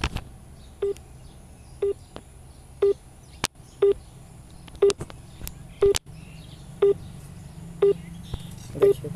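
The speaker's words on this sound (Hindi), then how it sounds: "टूं टूं का खाली साउंड आ रहा है" A short beeping tone repeats about once per second, clear and evenly spaced, over a faint low background hum, from a mobile phone call placed through aluminium foil.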